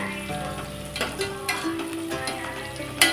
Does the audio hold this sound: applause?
no